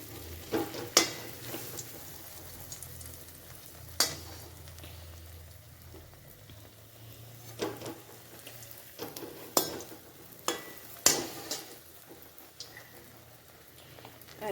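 Bread pieces fry in hot oil with a low steady sizzle, punctuated by several sharp clinks and scrapes of stirring against the pan.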